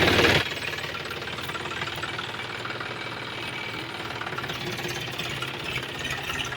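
A tractor engine with a worn bearing runs steadily close by, a loud continuous knocking rumble with no pauses.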